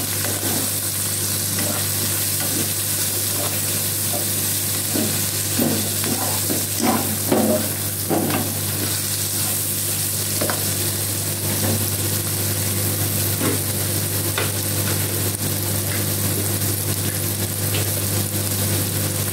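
Finely chopped eggplant fries in a pan and is stirred. A steady sizzle runs throughout, with a few louder scraping stirs near the middle and a constant low hum underneath.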